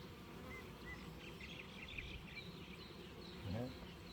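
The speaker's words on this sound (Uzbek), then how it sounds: "Mana arilar bunda tezda egallab polirovka qilib turadi." Honeybees working around a hive while the colony is fed make a faint, steady buzz with a soft low hum beneath, and no other sound stands out.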